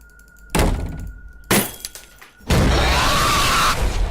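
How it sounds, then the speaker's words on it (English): A cartoon glass-breaking sound effect, loud and close, plays as a series of sharp crashes. The last burst is a sustained shatter of falling shards lasting over a second. "Sounds like they're breaking like 19 pounds of glass."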